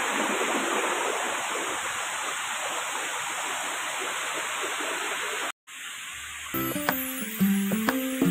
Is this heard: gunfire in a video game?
no